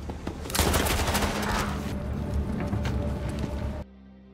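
Gunfire in a film shootout between police and mafia gang members, a loud rapid fusillade of overlapping shots and bursts that cuts off abruptly at the end.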